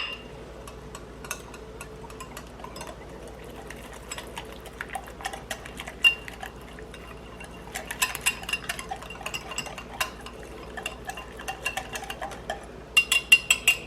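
A whisk mixing waffle batter with baking powder in a bowl, with faint, quiet clinks and stirring taps that grow into quicker, louder strokes toward the end.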